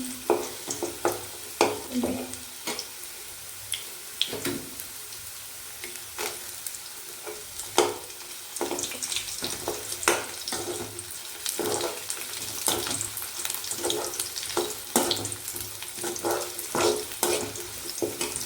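Onions and dried red chillies sautéing in a pan, a steady close sizzle broken by frequent sharp scrapes and taps of a spoon stirring, with no talk.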